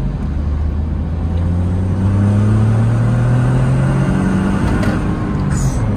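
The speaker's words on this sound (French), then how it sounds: "Là, ça monte, hein. Ça va jusqu'à 6500 tours minute." Three-cylinder engine of a Smart Fortwo Brabus revving up toward 6500 rpm, a loud, close droning note climbing steadily in pitch with no voices over it.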